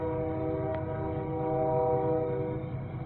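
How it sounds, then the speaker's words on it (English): A train rumbles past in the background of a nighttime fall campsite, a steady low rolling drone with a sustained tonal hum that holds throughout, moderately loud and without talk. "Train cruising by in the background again."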